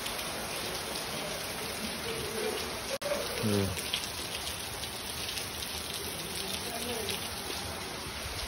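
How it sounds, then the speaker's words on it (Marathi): Steady night rain patters down continuously, a dense hiss with a brief interruption midway and faint low sounds underneath. "सुंदर पाऊस सुरू झाला आता"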